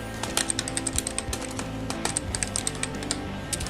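Keys on a computer keyboard clack in quick, uneven bursts of typing, close and distinct over a faint background hum.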